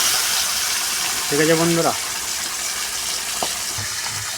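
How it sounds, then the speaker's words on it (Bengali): Fish, including a fish head, fries in very hot oil with a steady, loud broadband sizzle throughout, while a person briefly speaks over it. "এই যে মাছের মাথাটা ভাজা হচ্ছে, কিন্তু খুব সুন্দর করে ভাজতে হবে"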